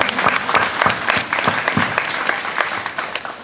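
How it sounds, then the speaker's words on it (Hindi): A church congregation at a confirmation service in St. Albert church, Hati Parish, claps loudly with a steady, dense patter and distinct individual claps, accompanied by a constant high tone. "ताली बजाएंगे जोर से।"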